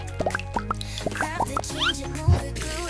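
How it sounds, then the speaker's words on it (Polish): Warm water rinsing skin: drips and plops in quick irregular bursts, with small splashes and liquid gurgles close by. "Ciepła woda jest najlepsza."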